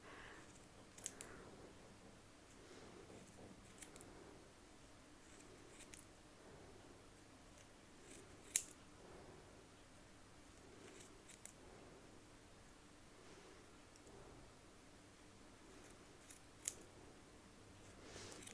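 Scissors snip through thick, bulky wool yarn in a quiet room: sparse, faint clicks and short snips at irregular intervals, with one sharper cut standing out midway and no talking.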